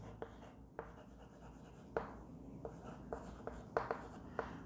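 Pen or chalk writing notes during a biology lecture: faint scratchy strokes with a few sharper taps and clicks over a quiet room hum, no speech.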